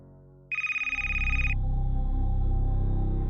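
A phone call rings out on speakerphone, starting with one loud electronic tone and then turning into a steady pulsing ring that sounds close and clear.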